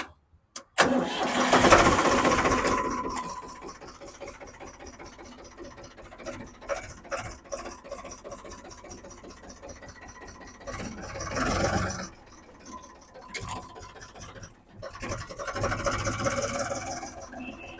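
A tractor engine cranks and catches with a loud burst, then settles into a steady mid-pitched idle that rises and falls as it runs.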